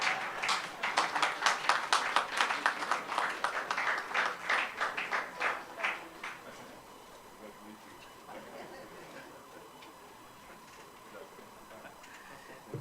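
Dense applause from a graduation congregation audience at a college of education ceremony rises for about six seconds, then thins and fades into quiet room tone, heard at moderate distance.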